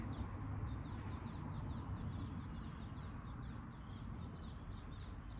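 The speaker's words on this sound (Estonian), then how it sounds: "Linnud tulid sööma. Neid on nii palju seal." Many birds feeding together on a lawn, their chirps and calls repeating steadily at a moderate distance over a constant low background hum, with no one talking.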